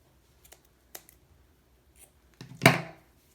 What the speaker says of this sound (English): we are going to cut the yarn